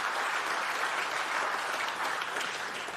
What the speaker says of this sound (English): So again, what about a round of applause for all of our young innovators?